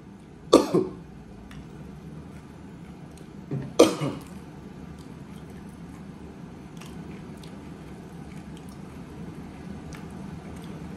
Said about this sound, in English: because of how much I was coughing